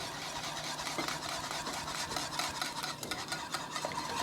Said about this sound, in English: Incorporate the eggs, the rest of the eggs into the custard filling.